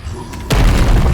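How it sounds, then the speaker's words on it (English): A rocket launcher fires in Black Mesa, heard as a soft launch followed by a heavy, close, low booming explosion that rumbles on to the end. "All right, fire up them rockets, boy."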